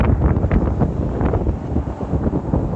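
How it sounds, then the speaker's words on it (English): Strong outdoor wind buffeting a microphone gives a steady, loud, rumbling roar that swells slightly throughout, with no other sounds clearly standing out. "And the wind is picking up"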